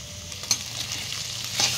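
Cut potato being stirred with salt in a frying pan for a fasting-day potato sabzi, a steady close sizzle with soft scraping strokes of the spoon, two brief louder clinks against the pan, no talking.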